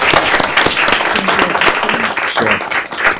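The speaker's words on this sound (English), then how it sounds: "How about a round of applause for our students?" Audience applause for students at a Quincy school committee meeting, a dense, continuous clapping from a roomful of people, fairly loud and steady throughout with faint murmuring mixed in.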